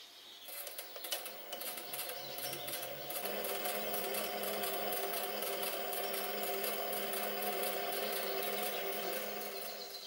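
A 3/16 inch hand reamer finishing a half-inch-deep 4.5 mm hole in a metal part for a small oscillating engine, giving a steady close grinding, cutting buzz that keeps on without a break and gets louder partway through.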